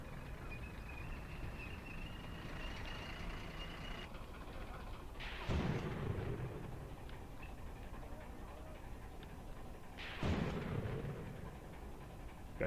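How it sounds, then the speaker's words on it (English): Anti-tank gun fire in the Graviteam Tactics wargame set around Kharkov in 1942, with two heavy booming shots several seconds apart over a steady low battlefield rumble. "I don't know what he's shooting at with his anti-tank ammo."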